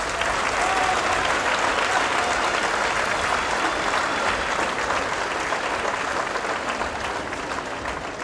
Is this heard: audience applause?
yes